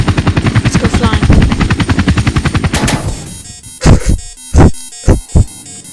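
A helicopter's rotor thumps rapidly and loudly in the video game Garry's Mod, then cuts out, followed by a few heavy, spaced booms.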